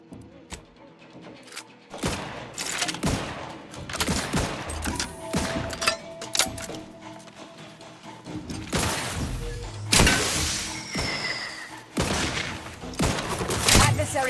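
Bursts and single shots of gunfire in The Outer Worlds 2, sharp loud cracks scattered irregularly across a busy combat scene with thuds, mechanical clanks and a synthetic voice speaking.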